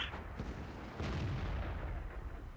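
A tank cannon firing in World of Tanks, the Jagdtiger 88 tank destroyer: one deep booming blast with a rumbling tail, fairly close, heard over steady low engine noise with no talking.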